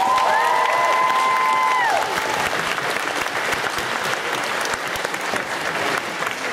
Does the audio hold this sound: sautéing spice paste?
no